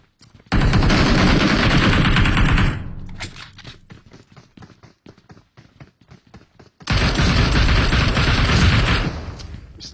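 Gunfire in the mobile battle-royale game PUBG Mobile: two long bursts of rapid automatic fire, loud and close, separated by a few seconds of scattered single shots and quieter game noise, with no talk over them.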